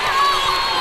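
A wrestling match crowd cheers and shouts in one loud, dense burst that lasts under a second, with excited voices blending into a single roar.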